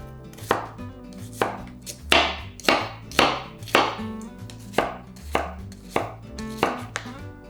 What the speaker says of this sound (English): finely chop 1 large onion